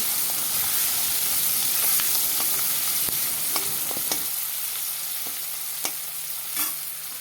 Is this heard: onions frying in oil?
yes